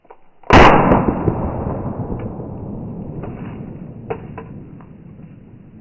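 A Beretta 1915/17 .32 auto pistol strapped to a tree and fired remotely outdoors gives one sharp loud shot that rings out and decays slowly, followed by a few faint distant clicks.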